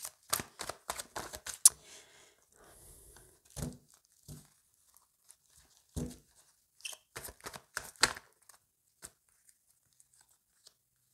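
Tarot cards handled and one turned over, a scattered series of crisp close paper snaps and flicks separated by silent gaps, no voices over them.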